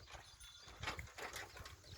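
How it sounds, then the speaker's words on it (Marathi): Quiet, uneven clopping of bullocks' hooves with a low rumble of a bullock cart rolling along at a walking pace on a village farm track in Antarwali Sarati, Maharashtra. "हे बघा ही बैलगाडी"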